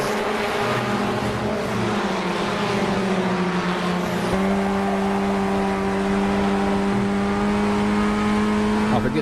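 Formula 1600 race car engine in a racing sim at VIR North Course, a loud steady drone holding high revs, with a sudden pitch step partway through as a gear shifts, then sustained at the new pitch.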